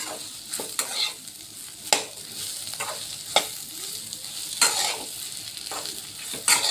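Stuffed okra sizzles and fries in a pan, with a soft, constant hiss under close, periodic stirring clatters from a spoon. No one speaks.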